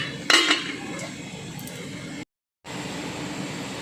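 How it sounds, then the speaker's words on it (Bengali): A pressure cooker lid being fitted and closed, a bright metallic clink and clatter of pot and lid near the start, then a soft steady background hiss broken by a short silent gap. "এবার আমি কুকারটা ভালো করে লাগিয়ে নিচ্ছি"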